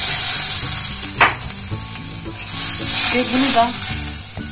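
Semolina sizzles in melted fat while being stirred steadily, a loud close frying hiss with scraping stir sounds, and a voice speaks briefly over it.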